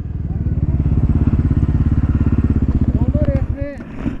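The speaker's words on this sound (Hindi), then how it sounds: "और निकल गई भाई आगे डोमिनार" A Bajaj Dominar 250 motorcycle pulls hard in a drag-style performance run, its engine giving a loud, steady pulsing drone close by that fades out near the end, with a voice talking over it.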